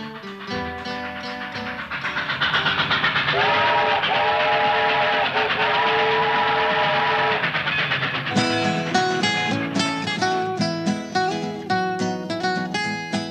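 A steam train rolls past with a loud, sustained steam whistle, the rumble of the rail cars continuing beneath it, then giving way to bright music.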